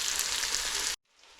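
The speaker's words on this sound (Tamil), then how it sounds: "இந்த தக்காளி அப்படியே குக் ஆகிற வரைக்கும் ஒரு 1 மினிட் வெயிட் பண்ணுவோம்" Tomatoes cooking in a pan for idiyappam biryani, giving a steady loud sizzle and crackle that cuts off abruptly, followed by a fainter hiss.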